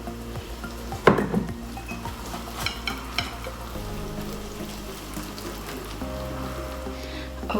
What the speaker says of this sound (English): So I'm going to make a batter, and now just put in a little bit of water at a time